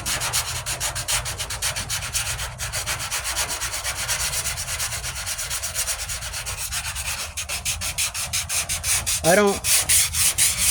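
Rhythmic back-and-forth hand sanding on a 1998 Ford Ranger body panel near the wheel arch, steady scraping strokes repeated close up, with a brief squeak near the end.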